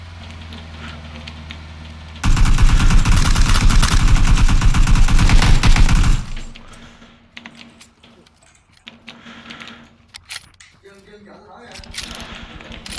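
Sustained automatic gunfire in the battle-royale game PUBG, loud and continuous for about four seconds mid-clip, over quieter game ambience and a soft voice before and after.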